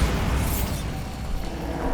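A Bombarda spell in the video game Hogwarts Legacy goes off as a dense, loud explosive boom that fills the whole moment and then rumbles and decays.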